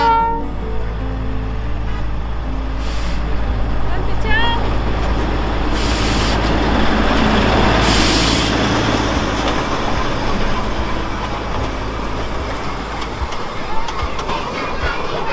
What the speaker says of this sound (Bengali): আর এই টয় ট্রেনটা যখন ঢোকে